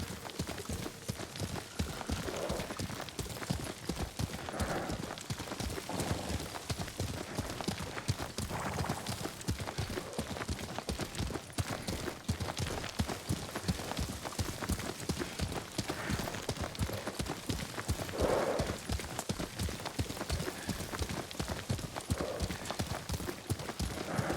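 Horse hooves clip-clop steadily as a rider travels on horseback across the island setting of Ghost of Tsushima, an even rhythmic patter of footfalls continuing at moderate level throughout, with faint background voices at times.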